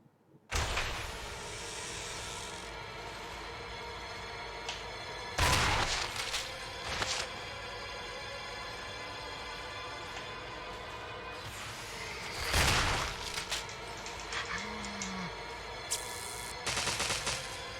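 Shotgun fire in the video game Resident Evil HD: several loud, booming blasts spaced irregularly a few seconds apart, with quieter game ambience and small clatters in between and no speech.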